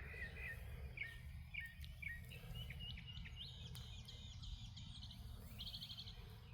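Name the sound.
birds singing outdoors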